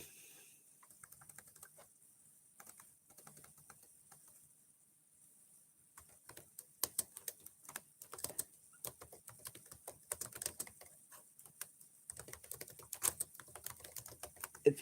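Computer keyboard typing: sparse, quiet key clicks at first, then busier, uneven bursts of close keystrokes through the second half. No speech.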